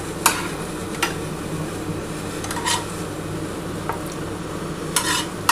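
Onions frying in a pan, a steady sizzle with a spatula stirring and scraping now and then, close and fairly loud with no talk.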